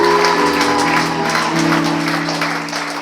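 A church congregation applauds and acclaims the Lord, a short burst of clapping over steady sustained keyboard tones, fading slightly toward the end.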